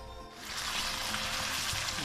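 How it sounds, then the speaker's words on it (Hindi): Chicken pieces for a Lahori chicken karahi sizzle and fry steadily in hot oil, a dense continuous hiss that swells after a brief dip at the start and stays loud throughout. "ये हमारा गोश्त अच्छे से फ्राई हो रहा है"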